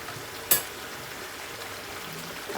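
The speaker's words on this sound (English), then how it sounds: "So I'm going to let it boil up a little bit more." Beef and broccoli sauce boiling in a pan, a steady soft bubbling sizzle with a single sharp tap near the start, close and fairly quiet.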